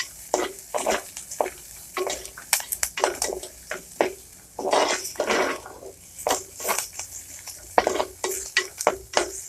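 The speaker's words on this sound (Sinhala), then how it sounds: "මේ ටික එකතු කරලා අපි මේක හොඳට ටෙම්පරාදු කරගන්නවා" Curry leaves, fennel and pandan leaf sizzle and crackle in hot oil for a pork pepper curry, with bursts of popping and spatter and stirring scrapes in the pan, close and lively.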